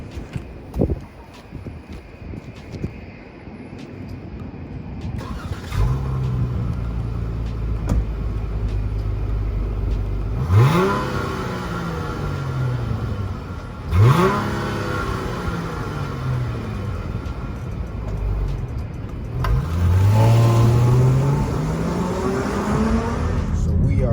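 A 2021 Chrysler 300S engine idles low, then revs up sharply three times, each rising roar falling back to a steady rumble, close by.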